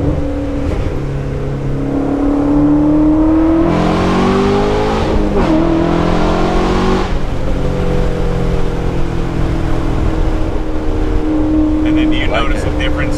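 Ford Shelby GT350 or BMW E92 M3 sports car accelerating hard, a loud engine rising in pitch through gears with shifts, heard from inside the cabin while people talk over it.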